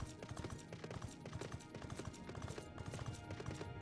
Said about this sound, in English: Sleipnir makes while it's galloping.